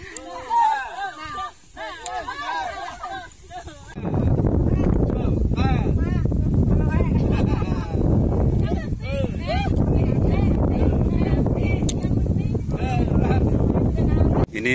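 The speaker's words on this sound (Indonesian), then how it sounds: "Ini anginnya kencang jadi kabutnya hilang ya" Strong wind on a mountain hike roars and buffets the microphone in a heavy, continuous rumble, while people talk over it.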